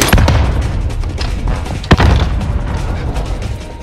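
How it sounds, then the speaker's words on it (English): A grenade bursts in Call of Duty Warzone on the Verdansk map, a sharp, loud blast with a heavy low rumble amid other scattered bangs and thumps. "Grenade out."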